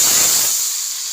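A loud burst of hissing sizzle as hot tempering is poured onto chickpea curry, bright and steam-like, fading slightly over about a second.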